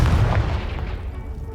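A Confringo fire spell from the video game Hogwarts Legacy bursts with a deep, loud boom that rumbles and slowly fades over about a second and a half, with no voices.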